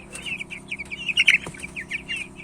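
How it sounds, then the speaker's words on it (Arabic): Twenty-day-old white chicks with a cold and cough give short, repeated clucks and cheeping calls in a quick, uneven patter nearby, with a low steady hum underneath. "بيعمل خرخشه كده وكتمه في النفس"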